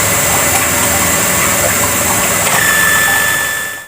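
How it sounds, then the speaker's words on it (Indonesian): A carpet tufting machine running in a wool carpet factory, a loud continuous mechanical whir and clatter with a high whine entering partway through, fading out at the end. "Satu mesin pembuat rumbai sehingga dapat menghasilkan beberapa ratus meter persegi karpet sehari."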